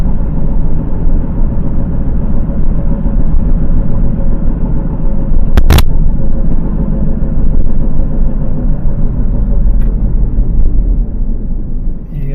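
A car with a noisy wheel bearing driving, loud continuous road and drivetrain rumble throughout, with a brief sharp bang partway through.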